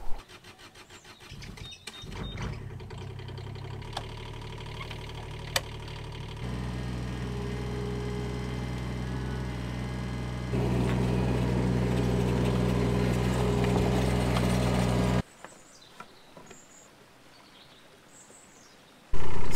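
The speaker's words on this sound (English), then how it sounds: "I'm going to jump in the digger, fuel it up, and we'll get going." A digger's diesel engine runs while clearing an old ditch, starting with some clanks and then settling into a steady idle that shifts pitch as the load changes, before dropping away near the end.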